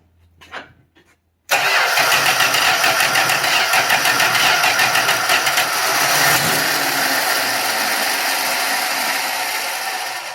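A flooded 1966 Dodge Dart engine cranks loudly and continuously after a brief pause, with a fast rhythmic starter chug that holds for several seconds without catching, then slowly fades.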